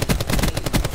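Rapid assault rifle fire in Call of Duty Black Ops 4, a loud, close automatic burst of evenly spaced shots filling the full second, no voices.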